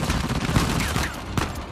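Dense gunfire from the video game Uncharted: The Lost Legacy, a rapid fusillade of overlapping shots and automatic bursts crackling continuously, loud and close, with one sharper report standing out near the end.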